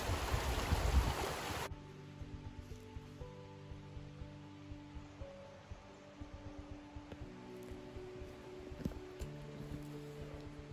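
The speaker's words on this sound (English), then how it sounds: "Water running any direction you turn." Creek water running over rocks in the woods, a faint steady trickle and babble after a brief louder rush at the start, with scattered small clicks and knocks.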